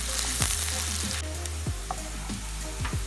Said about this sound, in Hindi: ऑयल हमारा गर्म हो चुका है। अब हम इसमें प्याज डाल देंगे।